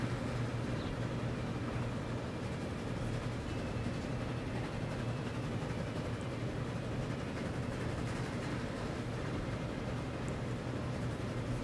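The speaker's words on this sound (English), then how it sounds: "Another big train going out there." Trains run in the Transport Fever railway simulation game, a continuous low rolling rumble of rail cars with steady track noise, moderately loud and unbroken throughout, with no talking.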